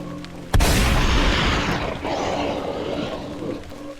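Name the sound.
shotgun blast sound effect in a narrated story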